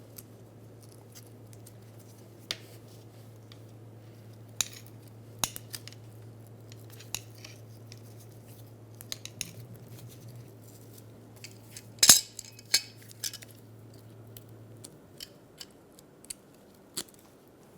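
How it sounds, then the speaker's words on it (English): Metal hose clamps are moved from an old power steering return hose to a new one on a 2007-2011 Toyota Camry, giving scattered sharp metallic clicks and snaps over a low steady hum, with a louder clatter midway. "Swap the clamp from the old hose to the new one."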